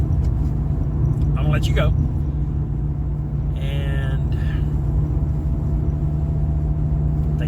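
Steady low engine rumble and road noise fill the interior of a moving car at night, continuous throughout while a person talks over it.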